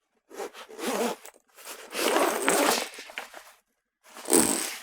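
A backpack zipper is pulled open and closed in several quick rasping strokes, close up, with brief pauses between pulls.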